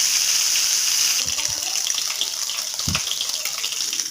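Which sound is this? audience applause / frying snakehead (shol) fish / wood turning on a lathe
frying snakehead (shol) fish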